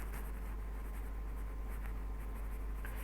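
Steady writing on a board during a class 12 matrices lesson, a continuous close scratch and tap of a marker or chalk over a constant low hum.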